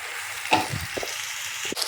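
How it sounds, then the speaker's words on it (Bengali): Chopped onions sizzle in hot oil in a pan while being stirred, as the base for a Bengali egg curry; a steady frying hiss runs throughout, with a few soft scraping and tapping stirs close by. "এখন নাড়া দিই, পেঁয়াজটা ভাজা ভাজা হোক"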